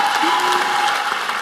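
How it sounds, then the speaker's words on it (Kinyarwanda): Audience applause at a talk, a steady dense clapping from a crowd that holds evenly throughout, fairly loud and with no voices over it. "Mumukomera amashyi vema."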